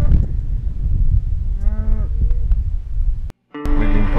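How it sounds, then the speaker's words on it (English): Cows lowing in a desert in South Russia in the early morning, one clear drawn-out moo rising over loud wind and outdoor rumble, followed by another bovine call near the end. "And there are a shitload of cows."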